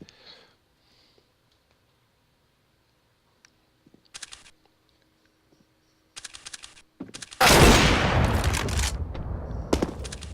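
Gunfire in a Counter-Strike match on the Cache map: sparse, quiet clicks and short shot bursts, then a loud sustained volley of rapid fire in the final seconds.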